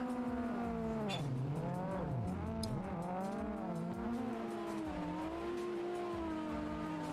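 Virtual car drifting in Assetto Corsa, tires squealing continuously as the engine note swoops up and down through repeated revs, sustained and close with no talk over it.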